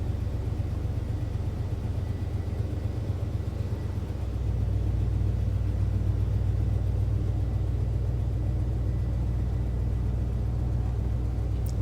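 A square-body truck with new suspension drives along, its engine giving a steady low rumble from inside the cab that deepens slightly as it pulls ahead.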